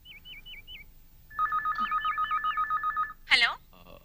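A telephone at a public long-distance STD call booth chirps with a string of short warbling tones and then rings steadily in rapid pulses for almost two seconds. A brief louder burst follows.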